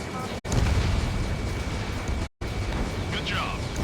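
A missile launch in the jet combat game Ace Combat 7, a whooshing roar over steady jet noise, broken by two brief dropouts, with a short electronic tone near the end.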